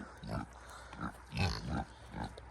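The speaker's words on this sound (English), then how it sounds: "the pigs think they're getting fed" Pigs on a homestead grunt repeatedly, expecting to be fed. The low, rough grunts come in a steady series, moderately close but fairly quiet.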